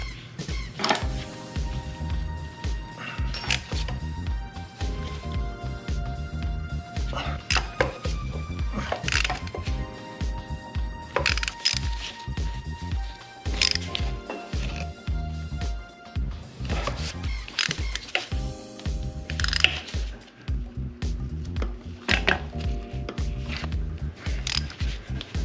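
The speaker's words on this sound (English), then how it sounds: "So now I'm gonna go ahead and tighten down the intake manifold." A ratchet tightens the intake manifold bolts on a B18 Integra engine, with repeated bursts of rapid clicking and metallic clatter spread through the clip at close range and steady loudness.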